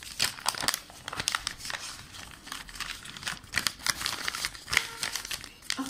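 Sheets of paper are creased and folded by hand into a paper boat, giving soft, irregular crinkles and sharp crackles close by at low volume.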